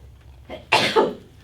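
A single short, sharp sneeze bursts out after a brief intake of breath, close to the microphone.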